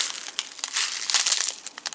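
A plastic bag of beads being handled, giving loud, close crinkling and rustling in irregular bursts with brief pauses, crisp and bright, with no talking.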